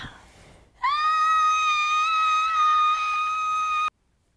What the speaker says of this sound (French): T'étais en train de hurler là, non?